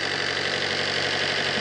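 A 2011 Maruti Swift VDI diesel engine idles steadily with a close, even rumble and a faint knocking clatter, and no voices.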